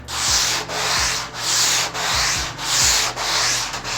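Hand sanding the rails of a surfboard foam blank with a flexible pad, a close, steady rasping rub in even back-and-forth strokes, about seven passes with brief dips between them.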